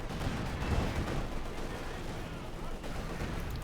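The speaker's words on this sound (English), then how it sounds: "T-4 taking hits from the cannon after there" In the Company of Heroes 2 strategy game, cannon fire strikes a German T-4 tank amid a dense battle din of booms and rumbling gunfire, under a commentator's voice.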